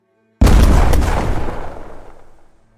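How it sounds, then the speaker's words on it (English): A truck bomb goes off as an audio drama effect: a sudden, loud, booming blast out of silence, followed by a rumbling decay that fades away over about two seconds. "The bomb placed in the bowels of the truck went off with an ear-shattering bang that could be heard for miles."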